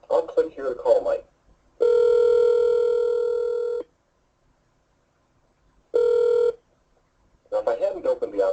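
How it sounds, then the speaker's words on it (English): Click-to-call from a CRM system through a desk phone: someone talks, then two long ringback tones come through the handset, each followed by silence, before he speaks again. "I'll click here to call Mike."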